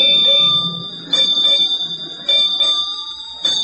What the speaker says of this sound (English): It was 8 bells, noon.